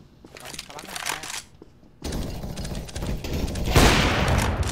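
On the Counter-Strike Office map, loud gunfire erupts in quick, dense bursts, growing heavier toward the end while players talk over the shooting.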